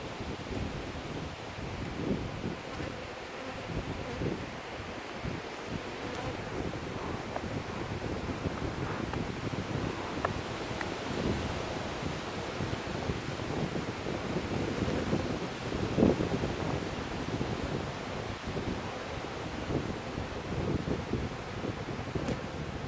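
Strong gusting wind buffets a microphone outdoors beside a beehive, a steady broadband roar with rustling surges that stays continuous throughout, with no voices.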